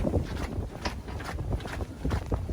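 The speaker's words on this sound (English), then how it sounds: "as you can hear it's very windy right now." Strong wind gusts at a camp site buffet the microphone in rough, rumbling bursts that rise and fall irregularly, with no voices over them.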